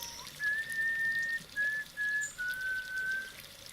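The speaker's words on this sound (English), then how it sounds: "I came to a bridge and fell to whistling." A character in The 39 Steps video game whistles a tune at a bridge, a thin clear melody of several sustained notes with short gaps, moderately faint over a soft background hiss.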